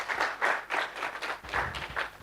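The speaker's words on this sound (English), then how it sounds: "Let's give a round of applause." A small audience at a breakout session for an innovation competition gives a round of applause, several hands clapping in uneven bursts that swell and fade over a couple of seconds.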